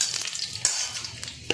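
Cardamom pods sizzle and crackle as they drop into hot oil in a pan for chicken stew, a steady close fry with a few sharp pops.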